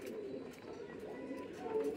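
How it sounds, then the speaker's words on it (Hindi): Rampuri pigeons at a village loft in Rampur district coo softly in low, rolling murmurs, faint and close over a quiet background. "ये अपने कबूतर हैं"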